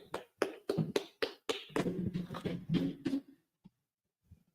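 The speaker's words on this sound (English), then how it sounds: "Clap it up, clap it up." An audience at a biblical law class claps in rapid rhythmic unison, a dozen or so sharp, close claps in a quick beat that fade out into silence with a few stray taps.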